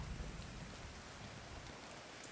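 Steady rainstorm in The Division 2 game, a dense wash of rain hissing and pattering on surfaces at even volume throughout, with no voices.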